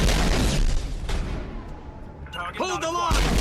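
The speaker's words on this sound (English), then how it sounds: "One volley from these turrets will kill you." Turret gunfire in the Mass Effect video game on Insanity difficulty, heavy booming bursts in a dense battle mix, with a voice talking near the end.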